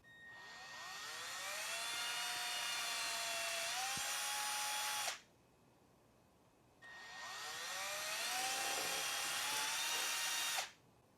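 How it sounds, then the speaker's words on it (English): A power drill with a 5/64 bit bores holes in a GM 3.6 engine part clamped upside down in a vise, two sustained whining runs that climb in pitch, separated by a short pause, close and loud. "we'll drill out the two bottom holes with the 564 drill bit"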